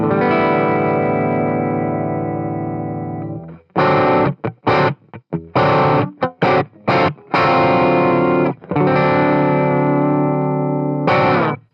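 Electric guitar played through a NUX Mighty 20BT MKII amplifier on its Vox AC30 Class A amp model: lightly driven sustained chords, then a burst of short choppy strums, then ringing chords again, loud and close.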